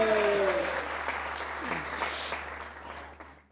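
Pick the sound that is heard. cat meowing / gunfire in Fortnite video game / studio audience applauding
studio audience applauding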